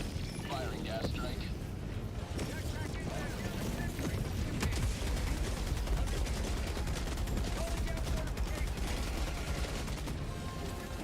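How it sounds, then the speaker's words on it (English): Orbital gas strike firing in a video game: a dense, continuous barrage of gunfire and explosive rumble, loud and sustained throughout, with a voice talking over it. "Calling in orbital strike. Firing gas strike."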